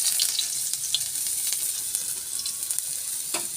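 Garlic paste frying in hot oil in a wok, giving a bright, steady hiss with a few small spatters and a faint clink near the end, close and moderately loud, with no talking.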